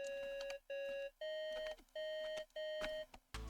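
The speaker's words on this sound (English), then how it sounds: "I layered it with this other sound, which is like a very like high pitched, I guess, like pixel sound." A very high-pitched, pixel-like synth layered over a counter melody sounds in short beeping held notes separated by brief gaps, with faint percussive ticks underneath, clear and alone.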